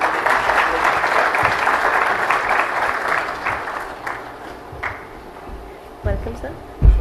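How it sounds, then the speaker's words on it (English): An audience at a national symposium stage event breaks into strong applause that fades after a few seconds, leaving brief scattered claps and low room noise. "A round of applause, please."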